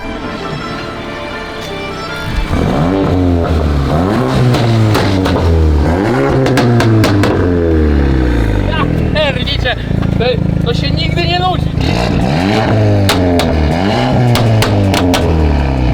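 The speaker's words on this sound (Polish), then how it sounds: "Zobaczycie jak chodzi wydech." A modified 2024 Volkswagen Golf engine revving hard with loud, rising and falling exhaust roars, close by, while someone talks excitedly over it.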